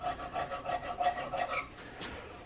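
A small rasp works the wooden stock of an Investarms Gemmer Hawken rifle kit with close, quick, steady rasping strokes, about six in a row, before trailing off into lighter scraping.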